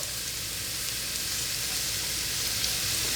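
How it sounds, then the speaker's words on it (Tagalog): Chopped white onion and crushed garlic sizzle as they sauté in a pan, a dense, even hiss that holds steady and close throughout with no talking. "lutuin lang natin ito hanggang sa lumambot yung sibuyas"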